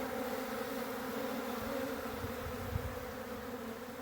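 A constant low hum of bees swarming at a nearby feeder, holding steady throughout with faint bumps underneath.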